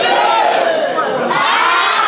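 Crowd at a Cameroonian-style family birthday party erupts in loud, sustained cheering and children's shouts right after a countdown to blowing out the birthday candle.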